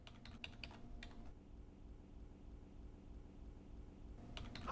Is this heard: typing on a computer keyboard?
yes